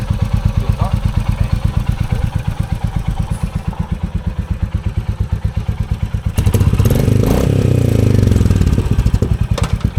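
A Royal Enfield Meteor 350 motorcycle engine thumps in a steady, even idle rhythm up close, then grows louder and rougher as it is revved near the end.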